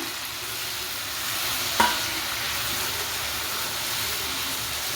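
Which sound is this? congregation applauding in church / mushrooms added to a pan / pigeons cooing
mushrooms added to a pan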